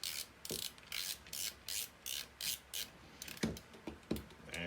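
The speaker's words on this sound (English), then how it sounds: "Get that last screw in there." Screw being driven into the plastic shell of a First Strike Roscoe during reassembly, giving a series of regular, close ratcheting clicks and rasping turns, with a few sharper clicks near the end.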